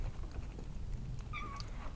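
A cat gives a brief, faint meow outdoors in snowy conditions during a North Georgia blizzard, partly buried under a steady wash of wind-like background noise.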